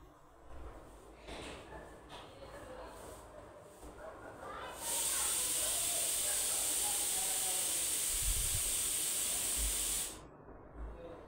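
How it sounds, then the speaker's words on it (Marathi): Veg hakka noodles steam in a covered pan, a loud steady hiss rising abruptly and holding for about five seconds before cutting off, preceded by softer stirring and clatter nearby. "मिक्स केल्यानंतर आपल्याला एक वाफ काढायची आहे."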